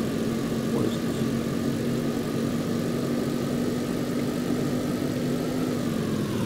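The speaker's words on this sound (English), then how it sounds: "turn off the engine" A vehicle engine idles in a Roblox game, a constant low drone with a steady hum that holds at an even level throughout.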